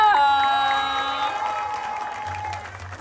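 An audience at a pageant national costume round breaks into loud applause and cheering, while a sustained sung or shouted voice rises over the crowd and then fades as the clapping continues.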